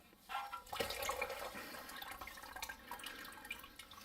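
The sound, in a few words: Toyota Corolla transmission fluid draining from pan into bucket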